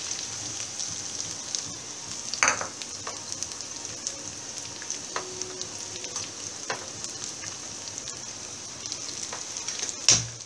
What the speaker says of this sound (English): Saute the onions well.